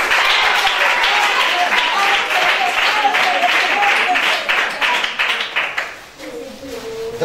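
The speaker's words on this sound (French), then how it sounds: "Les félicitations. Applaudissez." Loud, dense applause from a crowd at a Christmas gathering for children of a charitable foundation, steady for several seconds and then thinning out, with voices talking underneath.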